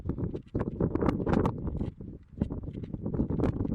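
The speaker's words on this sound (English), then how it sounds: "And yeah, it's windy" Steady broadband wind rushing and buffeting across a microphone in Capital Forest, loud and continuous with gusty swells, no clear voices.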